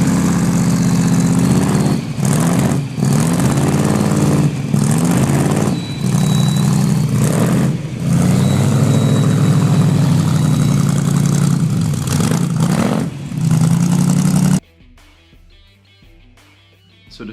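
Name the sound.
Chevrolet 348 big block V8 engine running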